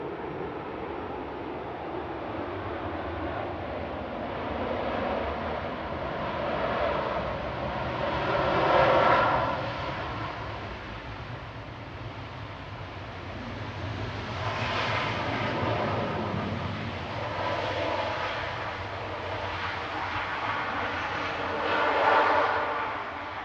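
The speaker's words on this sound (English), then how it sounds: "Here it is, Emirates Flight 19 touching down from Dubai." An Emirates passenger jet arriving from Dubai touches down at Manchester Airport, its engine roar steady and moderately distant, swelling in a few broad surges over continuous background noise. No one speaks.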